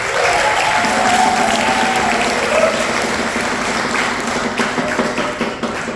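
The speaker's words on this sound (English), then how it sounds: "Give her a nice round of applause." A bluegrass concert audience at ETSU claps in a loud, sustained round of applause that slowly thins toward the end, dense overlapping handclaps filling the room.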